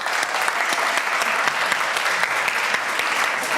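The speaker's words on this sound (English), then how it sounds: "So give yourself a round of applause." Awards ceremony crowd breaking into sustained applause, a loud, even roar of many hands clapping throughout with no talk over it.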